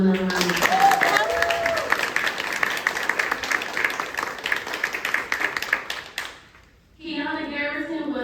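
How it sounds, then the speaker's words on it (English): A crowd at an award ceremony applauds with dense, sustained clapping that fades out after several seconds, followed by a voice starting to speak. "let's give him another round of applause"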